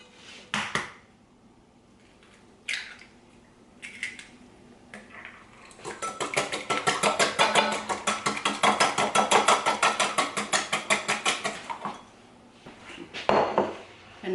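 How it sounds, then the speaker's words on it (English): Two eggs being whisked in a bowl, a fast rhythmic clicking of the whisk against the side lasting several seconds, after a few separate taps and knocks and a short burst near the end. "I am going to break 2 eggs and give them a quick whisk"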